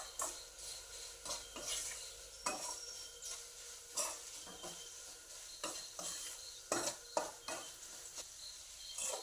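Chilli powder, pepper powder and meat masala stirred and sizzling in hot oil in a pan, a steady crackling fry broken by repeated scraping strokes of a spoon against the pan, close and fairly loud with no talk.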